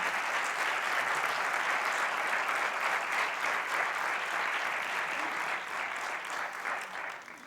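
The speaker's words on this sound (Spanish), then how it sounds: "darle un fuerte aplauso allá donde esté" Sustained audience applause at a lecture on recovering from addiction, a dense, even wash of clapping that holds steadily for several seconds before easing slightly toward the end.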